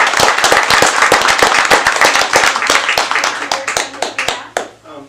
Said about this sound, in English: So let's give him a round of